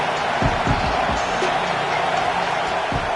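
Stadium crowd in an American football video game swells into a steady roaring wash, loud and continuous throughout, with a few thumping impacts early on.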